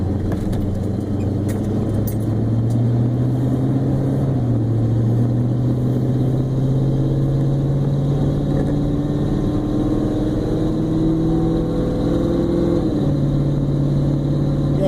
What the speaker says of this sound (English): Exhaust leak that's slowly opening up on the muffler on this thing